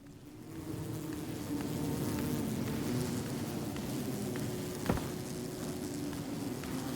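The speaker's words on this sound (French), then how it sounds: "C'est donc les ruches." Insect buzzing around beehives in the video game Cairn, a steady dense drone that stays continuous and fairly loud throughout, with no talk over it.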